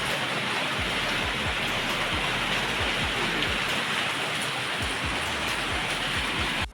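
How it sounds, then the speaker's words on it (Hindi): Heavy rain drums hard on a shade roof overhead, a loud, dense and continuous patter with nearby drips, and no voices. "बहुत तेज़ बारिश हो रही है"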